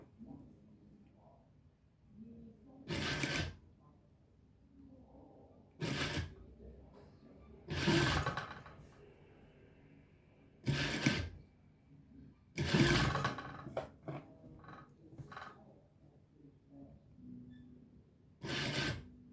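A sewing machine stitches lace onto the neckline of a dress in short bursts of rapid mechanical whirring, separated by quiet pauses with soft handling noises between runs.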